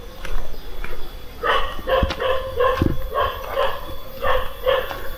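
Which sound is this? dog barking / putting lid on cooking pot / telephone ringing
dog barking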